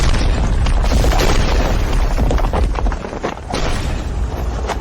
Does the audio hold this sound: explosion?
yes